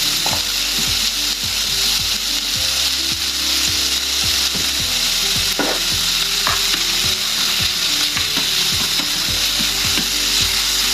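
Chicken fries in butter in a pan with a loud, steady, close sizzle that fills the whole stretch, while a utensil repeatedly scrapes and taps against the pan in an irregular rhythm.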